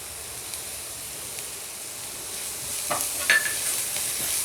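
An omelette fries in a pan with salt and pepper added while it is stirred, giving a faint, steady sizzle with a few soft scraping strokes and light clinks near the end.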